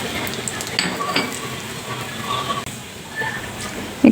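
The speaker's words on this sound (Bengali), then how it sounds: "একটা কড়াইতে তেল গরম করে তাতে জিরা ফোড়ন, দারচিনি, এলাচ, তেজপাতা এগুলো দিয়েছি।" Cumin, cinnamon, cardamom and bay leaves sizzle in hot oil in a kadai, a steady close crackle with a few light clinks of a utensil.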